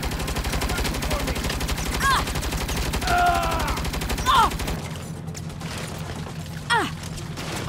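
Rapid bursts of gunfire aimed at a turret during a Saints Row shootout, sustained and loud with short chirping tones cutting through, the firing thinning out partway through.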